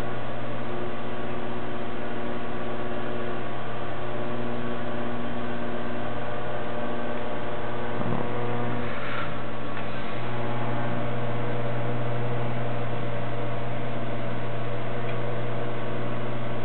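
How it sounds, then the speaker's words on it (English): PD-8700F data tape destruction device running its self-test: a loud, steady electrical hum with a constant tone throughout, broken only by a few faint ticks partway through. "Turn the unit on, and we'll go through its self-test procedure."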